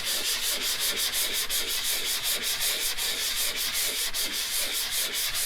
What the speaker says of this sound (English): This time we're going to sand in this corner and this corner, so upper right and bottom left.